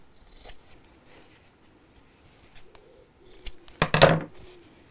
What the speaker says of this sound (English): I'm going to just cut the bulk away from the corners.